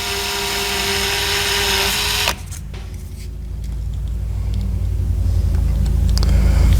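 A generator engine valve spun by a power tool against grit sandpaper, a continuous high whirring grind that drops abruptly partway, then resumes as a rising rumbling buzz; close and loud.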